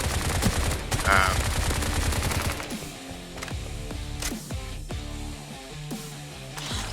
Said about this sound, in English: you can shoot just using well, I suppose it's an assault rifle or SMG